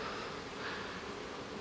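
Honey bees buzz steadily inside a winter hive, a soft, continuous hum and rustle of many insects close by, with no voices.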